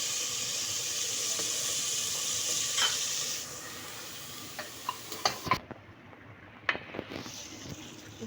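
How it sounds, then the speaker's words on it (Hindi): Meat goes into a pan of frying ginger and garlic for laal mirch gosht, a steady loud sizzle that drops as the meat lands, followed by scattered clinks and spattering pops close by. "अब मैं इसमें गोश्त ऐड कर दूंगी।"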